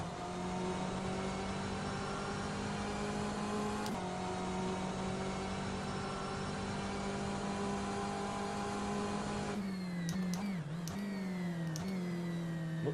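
Race car engine in rFactor 2, a steady high-pitched drone held at constant revs for several seconds, then wavering pitch with sharp clicks and shifts near the end, loud and alone.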